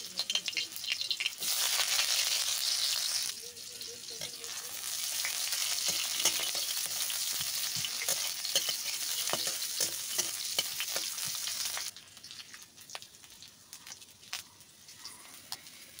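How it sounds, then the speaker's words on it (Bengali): Chopped onions fry in hot mustard oil in a kadai, a steady loud sizzle with occasional stirring clatter, easing to a quieter crackle near the end. "পেঁয়াজটা লাল লাল করে ভাজা হয়ে গেছে"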